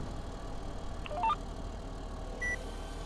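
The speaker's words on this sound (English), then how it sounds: "I believe it will beep when you raise it up and the planter's still turned on." Farming Simulator 17 planter warning beep sounding when the raised implement is still switched on: a few short electronic tones in quick succession, then a single beep, faint over a low machine hum.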